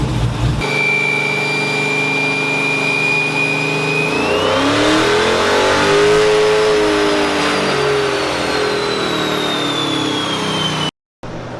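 A 5.7 HEMI V8 revs loud and close on a dyno baseline pull. The engine idles, then climbs steadily in pitch to a peak, falls off, and cuts out abruptly near the end.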